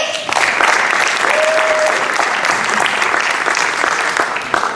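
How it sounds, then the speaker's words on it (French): An audience at a magic festival competition claps loudly and steadily for several seconds, a dense continuous burst of applause close to the stage. "On peut l'applaudir!"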